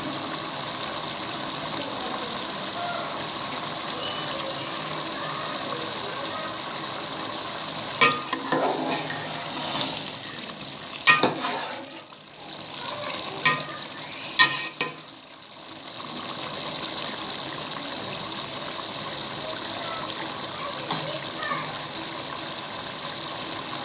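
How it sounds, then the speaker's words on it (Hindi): A spoon stirs matar pulao rice in a pot with gentle scraping and knocks over a constant bubbling simmer, a few louder clinks standing out midway. "हम इसमें चम्मच एहतियात से चलाएंगे और चम्मच ज़्यादा नहीं चलाना होता चावलों में"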